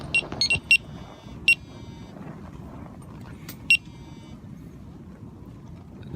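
Alarms on a linear (narrowboat) named Brasenose, set off by gusting wind, give several short, high-pitched beeps in an irregular little tune over a steady rush of wind.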